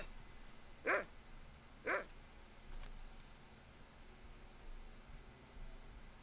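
Two sharp, separate dog barks from a dog in the online game Lord of the Rings Online, about a second apart, fairly clear over a low steady background hiss, then quiet.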